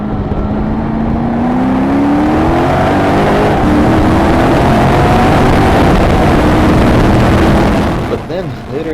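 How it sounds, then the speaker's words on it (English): An 800 HP Mercedes time attack race car accelerates hard down the straight, its engine note loud and close with rising tones through gear changes, dropping off briefly near the end, with speech heard over it. "The car was still making amazing power going down the straights"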